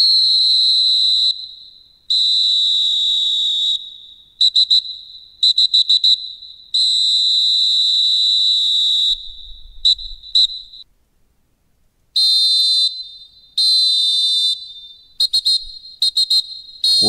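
A referee's whistle from a PES 21 football video game sound mod blows loud and shrill in repeated blasts, some long steady tones and others quick clipped trills, separated by short silences.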